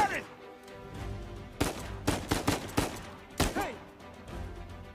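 Gunfire in Uncharted 4 rings out as a ragged cluster of loud shots in the middle, with single sharp reports before and after, while characters shout and talk over the action.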